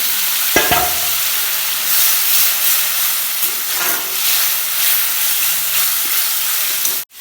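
Bay leaves sizzle and hiss in a pan after water goes in, a steady loud frying wash with a sharp splash near the start and a brief stir clatter, continuous for several seconds before cutting off.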